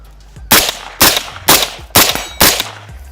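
A UAR-15 rifle fires five single shots at a military range after being buried in sand and shaken off, each crack sharp and loud, spaced roughly half a second apart with a short decaying tail.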